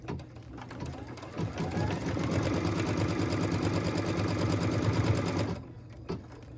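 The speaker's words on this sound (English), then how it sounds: "What we're stitching now is the tack down line for piece number 10." A sewing machine runs steadily for about five seconds, stitching the tack-down line on a pieced Wild Goose Chase quilt block. A softer start and stop frame the run, and a faint click follows.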